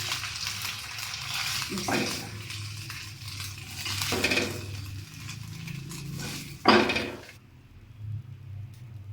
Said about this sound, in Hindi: चूल्हा बंद करके इसको निकाल लेते हैं प्लेट में